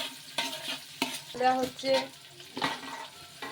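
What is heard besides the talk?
garam masala frying in ghee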